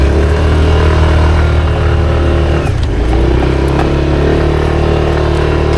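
A motorcycle engine drones loud and close throughout with a continuous low rumble, its pitch dipping briefly partway through as the bike labours to move forward on the way to a campsite.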